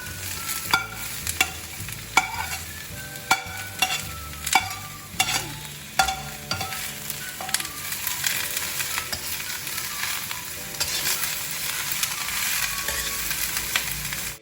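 Vegetables sizzle and hiss in hot oil while being stirred, with intermittent clanks of a utensil against the pan early on and a steadier crackling later.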